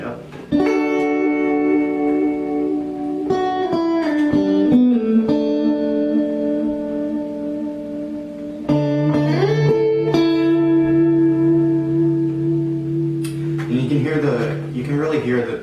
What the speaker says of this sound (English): You can really hear that it's more of a throbbing vibrato effect